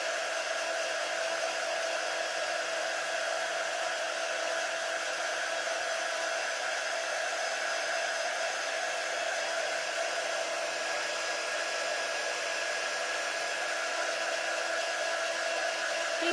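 A hair dryer blows steadily for the whole stretch, drying chalk paste on a round Santa cutout, a constant even whoosh with no pauses or talk.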